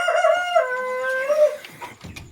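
A White Polish fancy chicken on a farm gives a single loud, close crow, a drawn-out cock-a-doodle-doo lasting about a second and a half, followed by faint clucking and rustle.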